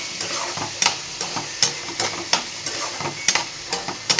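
Cut tomatoes sauté in hot oil in a pan, a steady sizzle broken by sharp scraping stirs of a spoon every half second or so, close-up with no talk.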